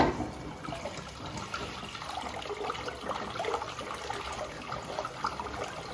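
A newly installed wall-hung toilet flushes after its large button is pressed, a steady rush of water pouring and swirling close by for several seconds, with no talk.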